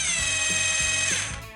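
A rotary hammer drill runs in a brief burst, with a high whining motor and a rapid rhythmic hammering clatter beneath it that slows near the end as the trigger is released.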